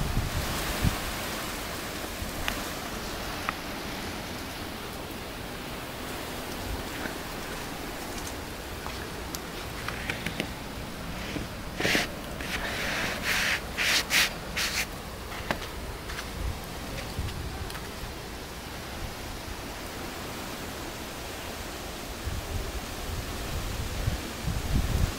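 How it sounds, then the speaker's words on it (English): Blizzard wind out of the northwest roars steadily past a snowed-in house, blowing drifting snow in a constant broadband rush with occasional louder gusts, close and loud. "Once that's blowing off the house, the wind is coming out of the northwest."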